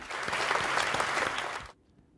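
A burst of clapping from a crowd at a Polaris Industries grand opening in Huntsville, steady and fairly loud for under two seconds, then stopping abruptly into near silence.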